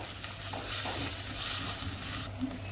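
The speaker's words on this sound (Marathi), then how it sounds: "वांगी ना तेलावर मसाल्यांमध्ये ना परतून परतून घ्यायची" Eggplant sautéed in oil with spices, ginger and garlic for a rice dish gives a steady, close sizzle with soft scraping stirs throughout, and no voices.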